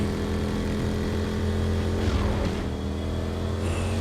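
A car driving in Saints Row: Gat out of Hell, a steady droning engine hum with a low, sustained tone that rises briefly as it accelerates, loud and alone without talk.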